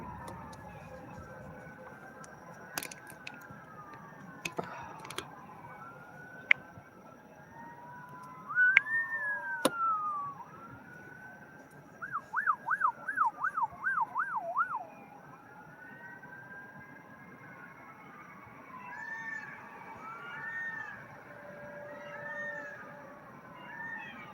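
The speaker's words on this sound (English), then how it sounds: "Here comes the fire truck." A distant fire truck siren wails in rising and falling sweeps, with a fast warbling stretch in the middle, over quiet outdoor background noise.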